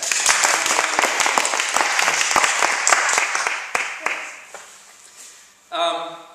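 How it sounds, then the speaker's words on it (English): Concert audience applauding at an affirmations and chanting concert, a dense burst of clapping that fades after about five seconds, then a brief tonal sound at the end. "So big round of applause for that."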